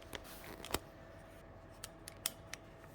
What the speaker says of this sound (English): now I'm gonna cut the flowers